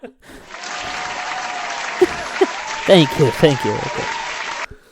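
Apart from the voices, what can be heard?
audience applause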